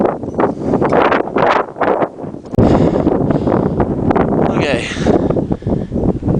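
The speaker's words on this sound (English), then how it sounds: "this wind's pretty killing at the moment" Strong wind on a mountain trek toward Island Peak in Nepal roars and buffets the microphone in loud, continuous gusts, while a person speaks briefly over the blustery noise.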